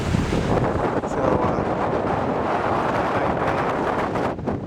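Strong wind buffets the microphone in a steady, loud roar beside a small cove, with a brief spoken word near the start.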